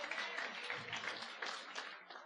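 Brief applause from a church congregation, a dense wash of many hands clapping at moderate, fairly distant level for a couple of seconds.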